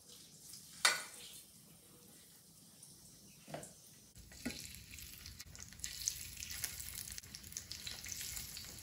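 Almond-crusted chicken frying in oil in a sauté pan: a few clunks of pan and food at first, then a steady, soft hiss and crackle of sizzling that runs on to the end.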